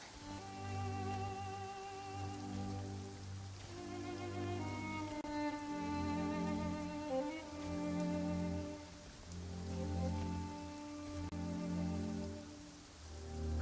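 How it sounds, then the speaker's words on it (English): Steady rain falls in the video game Genshin Impact, a soft continuous patter heard beneath sustained, prominent tonal music throughout. "Taking shelter and listening to the rain cleanse the earth makes me feel safe."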